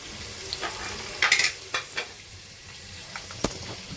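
Onions frying in a pan for a chana dal and meal maker curry, a soft background sizzle with scattered utensil clinks and scrapes, some louder metallic knocks, quiet and close with no speech.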